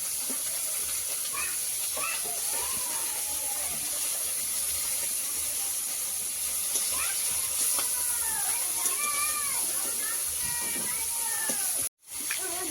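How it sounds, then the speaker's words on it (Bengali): Khalse and leta fish fry in hot oil in a pan alongside koi fish, giving a continuous close sizzling hiss with faint chirping in the background and a brief drop near the end. "খলসে মাছ আর লেটা মাছ তো ভাজা হচ্ছে তার সঙ্গে একটা কই মাছও আছে"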